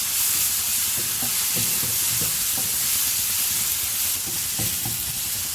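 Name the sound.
frying potato and capsicum with chilli and coriander powder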